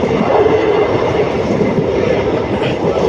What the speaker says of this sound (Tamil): உடுமலைப்பேட்டையிலிருந்து பொள்ளாச்சி லைனுங்க கிளம்பிருச்சு வண்டி